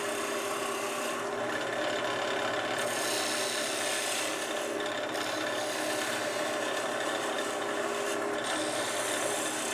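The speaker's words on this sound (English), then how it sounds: "I often use a narrow parting tool in the same manner as the other two." A narrow parting tool cuts into spinning wood on a lathe, giving a continuous close, loud raspy scraping hiss that pulses slightly in intensity as the blade feeds in, with no talking.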